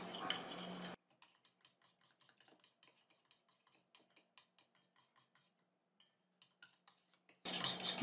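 Homemade face lotion stirred in a small container, a string of faint, close clicks and scrapes of a utensil against the vessel, quiet and irregular with no talk.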